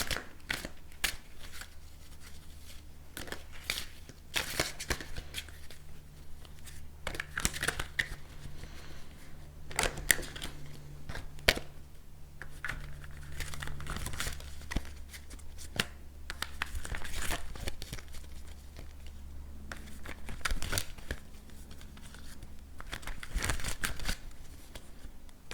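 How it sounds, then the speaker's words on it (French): Tarot cards being shuffled by hand, papery swishing, rubbing and crinkling bursts that come and go over about twenty-five seconds, close and fairly quiet, with no voice. "on va mélanger les cartes."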